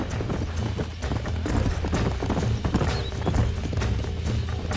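Steady hoofbeats of several horses clip-clopping at pace in a video game, Red Dead Redemption, a dense rhythmic thudding with a brief whinny, no talking.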